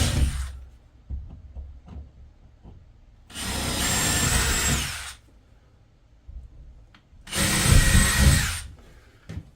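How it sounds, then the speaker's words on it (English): A power drill whirs loudly in two sustained bursts of about two seconds each, boring into the corners of a shed wall, with quieter knocks and handling sounds between. "All right, so we're going to drill in each corner"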